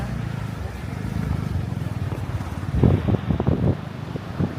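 Wind buffets a microphone with low rumbling gusts near the Togetsukyo Bridge and river in Kyoto, growing stronger midway, with faint talk underneath.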